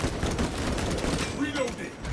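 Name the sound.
gunfire from a new gun in a Space Marine video game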